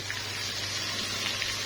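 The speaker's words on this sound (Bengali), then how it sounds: "মশলা কষানো, আদা রসুন কষানো হয়ে গেছে। তো মশলাটা আমার ভাজা ভাজা হয়ে গেছে।" Spices with ginger and garlic fry in a pan, giving a steady, close sizzling hiss that holds evenly throughout with no voices.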